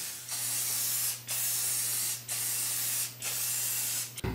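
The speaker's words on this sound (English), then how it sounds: "could I just use copper spray paint?" A can of copper spray paint hisses in four bursts of about a second each, with short gaps between them, loud and close over a low steady hum.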